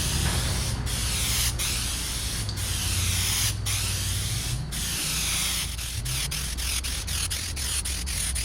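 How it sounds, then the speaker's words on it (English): Aerosol guide coat sprayed over dry primer on the bodywork of a 1977 Pontiac Trans Am: repeated close hissing bursts separated by short clicks, quickening toward the end, with no voices. "I'm going to go ahead and spray some guide coat on here and see how well we did."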